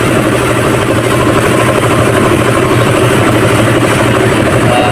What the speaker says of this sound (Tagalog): napakaganda na ng makina niya, napakalinis na